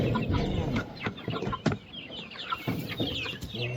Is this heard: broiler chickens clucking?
yes